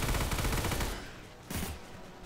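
Revolver firing continuously in Orion: Dino Horde, a rapid rattle of shots for about a second, then a short burst a moment later, loud and close with no talk.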